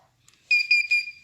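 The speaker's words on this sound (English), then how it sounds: "when you hear it beep 3 times, you know that that adjustment has been made" Three short high-pitched electronic beeps from a sewing machine in adjustment mode, in quick succession, close and clear, following a faint click.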